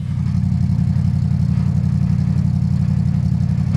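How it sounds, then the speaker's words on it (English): GT race car engines idle together after being fired up on the grid at Virginia International Raceway, a loud, steady, rumbling drone that goes on without a break. "their engines are fired up now"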